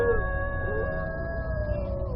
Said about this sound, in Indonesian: Jamal mendengar lolongan anjing yang silih berganti dan bersahutan.